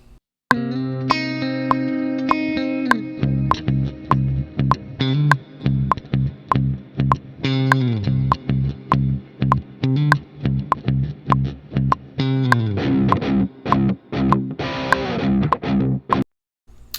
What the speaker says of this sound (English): building up to the distortion climax